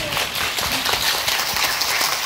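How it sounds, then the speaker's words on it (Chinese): An audience applauds teacher Chen at a singing event with dense, continuous, loud hand clapping close by, even and unbroken throughout. "好，掌声一下我们陈老师"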